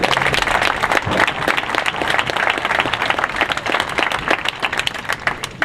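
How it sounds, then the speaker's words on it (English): An audience at a small-community evening event bursts into loud, dense applause, many hands clapping continuously, close and filling the room, with no talking over it. "So give yourself a round of applause."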